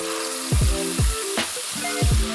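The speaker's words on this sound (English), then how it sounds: "I'm gonna start by sauteing my chili paste." Chili paste sautéing for mee goreng mamak, Penang style, gives a steady sizzle with several rhythmic scraping stirs of the pan, close and moderately loud, with no talking.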